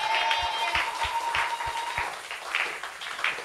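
A church congregation applauds, a dense patter of many hands clapping for a few seconds, with a steady rhythmic beat and some murmuring and voices mixed in.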